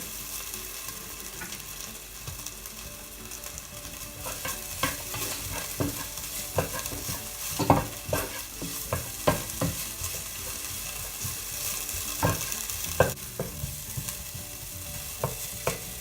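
Grated ginger frying in a pan for a salmon tomato masala, a continuous bright sizzle broken by irregular scraping stirs and utensil knocks, close and steady with no talking.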